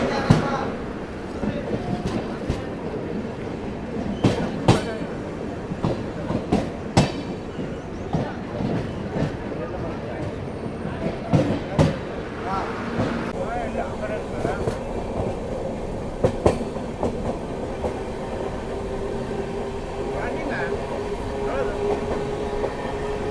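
Dakshin Superfast Express 12722 arriving at Pandhurna on Central Railway, a continuous rumbling of passing coaches with irregular clanks and wheel knocks close by, while someone talks over it.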